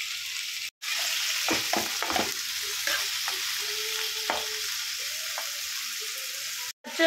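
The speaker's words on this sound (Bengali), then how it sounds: "তো চলো চিংড়ি মাছটা ঝটপট হালকা করে ভেজে নিই।" Prawns fry in oil in a hot wok with a steady close sizzle, and the spatula scrapes and stirs them in several sharp strokes.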